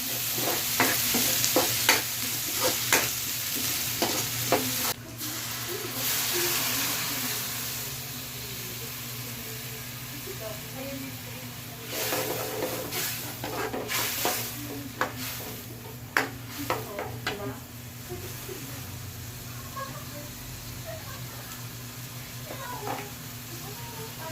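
Onion and ginger frying in a pan during a family birthday gathering, a steady close sizzle with repeated scraping stirs and a low background hum, faint voices now and then.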